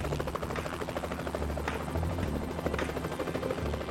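A helicopter flying over Hawaiian terrain on a mapping flight, its rotor chopping in a steady, loud, rapid thump with a constant engine whine beneath.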